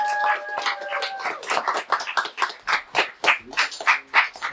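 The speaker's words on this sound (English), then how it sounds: "Clap it up." Audience clapping for panelists at an artists' panel event, a burst of claps that settles into a steadier, loud run of individual hand claps near the mic, with faint tonal background sounds early on.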